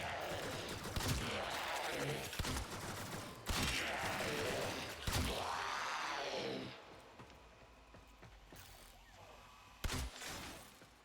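Gunfire in a video game, repeated sharp shots breaking through a busy, continuous in-game soundscape, with a louder shot near the end.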